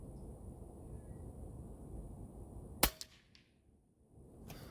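A single sharp shotgun report rings out as a slug is fired at a target, with bone crusher, rogue and zan slugs in use; the crack stands out from a quiet outdoor background and trails off in short echoes.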